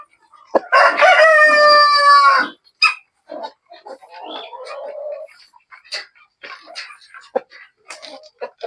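A Rhode Island Red rooster crows once, loud and close, with a long harmonic cock-a-doodle-doo, followed by scattered clucks, rustles and other farmyard noises from the flock.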